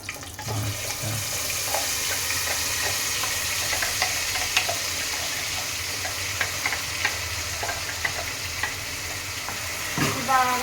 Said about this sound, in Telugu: ఈ టమాటా అల్లం ఎల్లిగడ్డ పచ్చివాసన పోయేంత వరకు మంచిగా ఫ్రై కావాలి